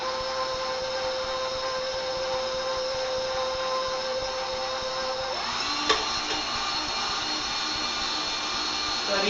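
An electric mixer whirs continuously as cubes of butter are beaten into chocolate-torte buttercream, a steady mid-pitched motor hum that shifts tone partway through, with a brief knock near the end.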